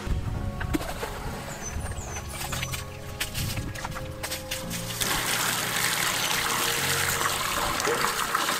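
Water flowing steadily through a siphon hose drawn from a river, a soft continuous trickle that grows fuller and louder partway through.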